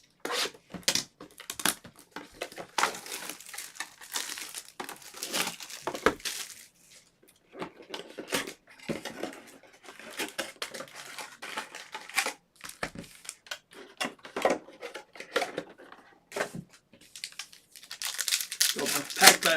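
Topps baseball card packs from a high-end mixed break are torn open one by one, their foil wrappers crinkling and ripping in repeated bursts up close, with talk running between rips.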